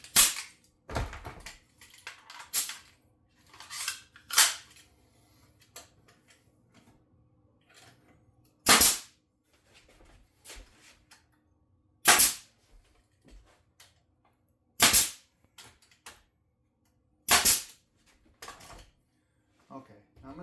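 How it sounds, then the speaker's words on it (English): A nail gun fires nails into a woodworking build for a hedgehog project, sharp loud bangs spaced several seconds apart over about twenty seconds, with quieter handling clatter and knocks in between. "we're going to try this with our nail gun again."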